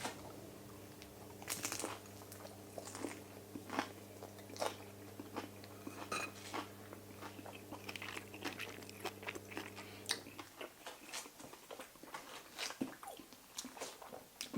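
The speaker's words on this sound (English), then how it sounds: "Super crunchy, the skin crisps up." Crisp bites and crunchy chewing of air-fried chicken thigh skin repeat up close, sharp crackles punctuating the quiet, with a low hum fading out near the end.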